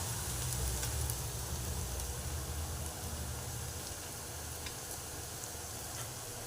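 Chopped onion frying in hot oil until golden for a dhaba-style egg curry, a steady close hiss and crackle of sizzling that runs throughout with no talking.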